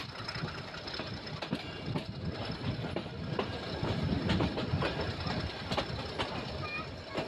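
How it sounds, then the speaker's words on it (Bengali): Nilgiri Mountain Railway toy train heading to Ooty through a green forested valley, its steady rumbling and rhythmic clickety-clack carrying on throughout, with faint voices underneath. "ছোট্ট টয় ট্রেন ছেড়ে দিল"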